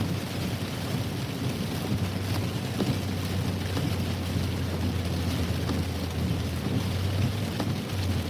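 Heavy rain pours steadily in a dense, continuous roar, with low rumbles of thunder rolling underneath, in the Wakefield and North Reading area.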